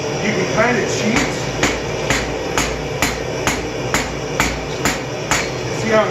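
A hammer rings on an anvil while shaping a forged knife tip, a steady series of evenly spaced, sharp metallic strikes about twice a second under a voice.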